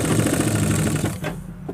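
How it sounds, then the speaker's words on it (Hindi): A sewing machine stitches along folded vest fabric while a sleeveless undershirt is being sewn, giving a steady close mechanical whir that runs unbroken for over a second and then slows and fades near the end. "तो सबसे पहले हम इसको यहाँ फोल्ड करके सिलाई मार देते हैं इस तरह"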